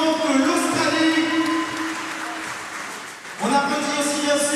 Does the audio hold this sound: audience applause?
yes